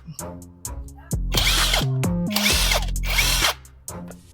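A cheap cordless brushless impact wrench loosens a nut in continuous mode, letting out a loud rapid hammering rattle for about two and a half seconds, framed by brief clicks and whirs before and after.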